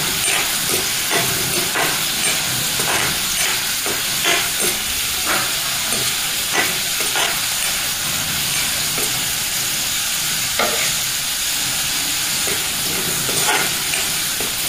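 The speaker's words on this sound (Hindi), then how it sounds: "प्याज को लाल होने देंगे" Onions sizzle and fry steadily in a pan for a brinjal dish, a dense continuous hiss with scattered stirring scrapes and crackles, close and loud throughout with no talking.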